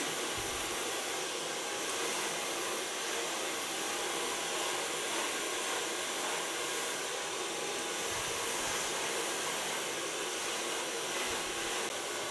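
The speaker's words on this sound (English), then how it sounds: "Blow drying with a small brush just to create the volume I need." A hair dryer blows steadily while short hair is blow-dried with a small brush, a constant even whoosh holding at one level throughout with no speech.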